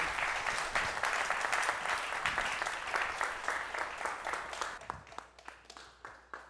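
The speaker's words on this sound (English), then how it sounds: "let's give Hanoi another round of applause" Audience applause for speaker Hanoi at the end of a talk on machine learning in creativity: dense, steady clapping that thins into scattered claps over the last second or two.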